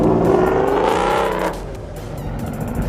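A Dodge Mopar car at a car meet revs hard, its engine roar rising and swelling before easing off into a rougher idle-like rumble, loud and close with outdoor crowd ambience.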